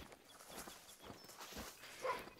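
Faint rustling steps and low dog sounds from a hunting dog in the video game The Hunter: Call of the Wild, quiet and close, shuffling in short bursts over a soft ambient background.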